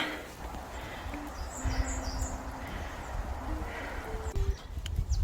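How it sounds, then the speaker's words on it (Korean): Birds chirp faintly and intermittently along a small mountain trail on Paryongsan near Changwon, Korea, where stone towers line the path. A few short high calls sit over soft footsteps and ambient noise. "새소리가 참 좋네요"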